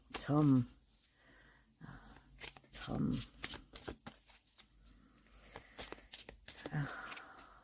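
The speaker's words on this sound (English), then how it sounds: "He just wants me to shuffle a bit, so I will shuffle." A deck of cards is shuffled in short, quiet bursts of riffling and rustling, separated by pauses, with a little low background noise.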